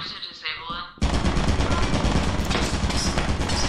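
Turrets open fire in the horror game Lethal Company, a sudden loud, dense burst of rapid automatic shots that starts about a second in and keeps going nonstop to the end, after a short stretch of quieter game noise.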